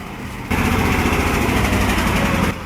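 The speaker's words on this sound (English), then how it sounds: "He feathers the throttle and rides the ruts." Iveco 6x6 truck engine revving under throttle through clay ruts, a loud buzzy drone that jumps up abruptly, holds steady for two seconds, then drops back.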